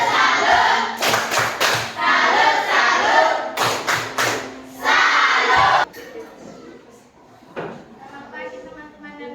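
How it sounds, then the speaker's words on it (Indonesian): A school class claps together in short rhythmic bursts, sharp hand strikes repeating in a patterned salute clap, with crowd noise and voices between them. "kita berikan tepuk salut untuk kelompok 3. Tepuk salut."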